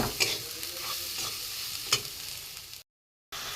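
Eggs sizzle in a pan with onion, garlic, ginger and spices for a dhaba-style egg tadka, a steady frying hiss broken by a few clinks of stirring, then a brief silent gap.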